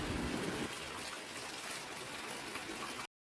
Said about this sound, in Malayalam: അപ്പോഴേക്കും ഇതാ പെട്ടെന്ന് തന്നെ മഴയും പെയ്ത്.